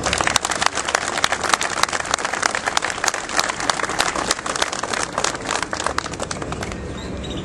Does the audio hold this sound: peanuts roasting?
no